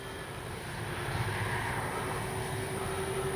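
Steady engine drone from a radio-controlled B-25J Mitchell warbird scale model flying a low pass with its landing gear down, a continuous far-off hum holding even throughout.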